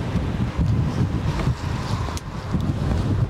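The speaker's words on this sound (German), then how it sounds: "es ist dermaßen nass und windig" Strong, wet wind sweeps the coast at Hoek van Holland in winter, a loud, continuous roar buffeting the microphone with deep rumbling gusts throughout.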